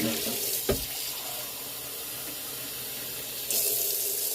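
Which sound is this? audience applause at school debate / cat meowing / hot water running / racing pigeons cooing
hot water running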